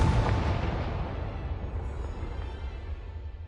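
A Confringo blasting spell bursts in Hogwarts Legacy on PS4: one loud, close explosion whose deep rumbling boom fades slowly across a few seconds, with no voices.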